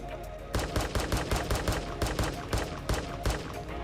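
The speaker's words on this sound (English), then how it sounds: "for being a semi-automatic pistol, it has a pretty good rate of fire" P890 semi-automatic pistol in the ARK Survival Ascended video game firing a rapid string of about a dozen sharp, evenly spaced shots, loud and alone.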